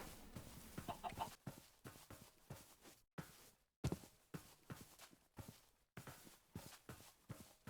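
Chickens cluck in short, repeated bursts with brief silent gaps, mixed with soft stepping sounds, in a video game.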